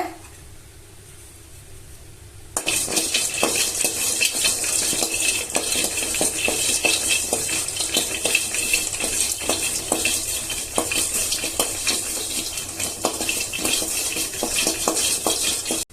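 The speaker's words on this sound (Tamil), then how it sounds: "பாதாம் பருப்பு, முந்திரி, ஏலக்காய் மூணையும் லைட்டா வறுத்து எடுத்துக்கலாங்க" Almonds, cashews and cardamom dry roasting in a pan, quiet at first, then a sudden start of steady scraping and rattling as the nuts are stirred and tossed, close and continuous.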